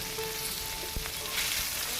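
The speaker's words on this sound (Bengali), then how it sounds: "পনিরগুলো একটু ভেজে নেবো তেলে" Pieces of paneer fry in hot oil with a steady, crackling sizzle close by, a few sharper pops and light stirring clicks rising out of the constant hiss.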